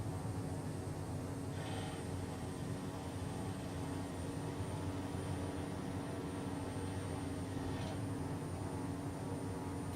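A low-flying plane in Microsoft Flight Simulator 2024 gives a steady, loud engine drone with a faint whine over broadband roar, unchanging throughout with no talk.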